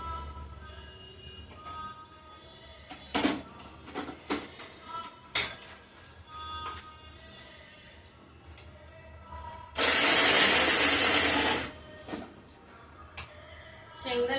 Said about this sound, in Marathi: शेंगदाणे मिक्सरला लावून घेते.